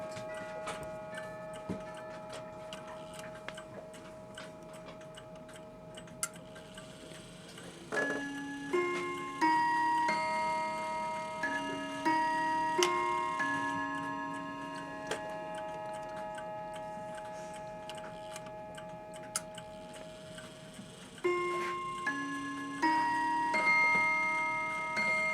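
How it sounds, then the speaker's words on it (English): A 1979 Hamilton mantle clock with a Hermle 340-020 movement, built like a small grandfather clock, ticks steadily and close by, its chime tones ringing out in clusters of bright notes over the tick. "It's basically a grandfather clock in a small case."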